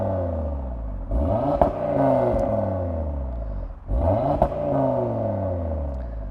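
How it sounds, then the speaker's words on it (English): A 2020 Audi TT RS fitted with the sports exhaust revs hard twice, nearby and loud. Each time the pitch climbs steeply, then falls away with a crackle and a low rumble before rising again. "So you're going to be wanting the sports exhaust,"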